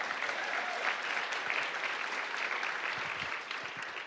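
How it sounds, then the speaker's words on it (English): Sustained applause from a conference audience fills the hall steadily for several seconds, dense and even, with no speech over it. "Yeah, you can clap for that."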